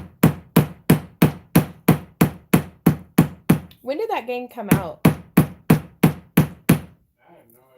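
A hammer strikes at a steady, even pace, about sixteen sharp, loud, close blows, pausing briefly while a voice speaks, then resuming before the pounding stops and faint talk follows.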